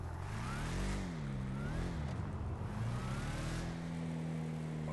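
A vehicle engine in the video game Rust drones steadily and loudly throughout, its pitch swooping up and down as the vehicle revs and drives.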